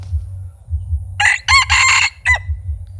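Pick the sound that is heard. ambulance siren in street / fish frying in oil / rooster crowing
rooster crowing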